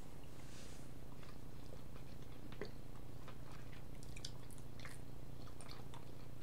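Soft, steady purring from a cat under faint room hiss, with scattered small clicks and wet chewing sounds, quiet and close with no talk.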